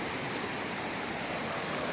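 The glacier-fed Kaslo River, running off the Kokanee glacier, rushes in a loud, close, unbroken stream of broadband water noise with no voices.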